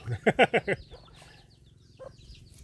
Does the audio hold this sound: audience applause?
no